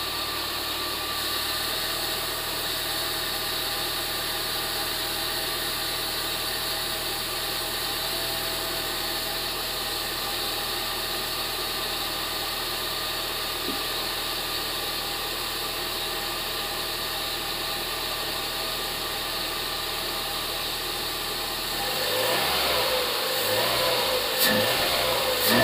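A reinstalled Peugeot 206 GTI S16 engine idles with a steady, even hum and buzz close by, then rises slightly with a few rhythmic throbbing pulses near the end.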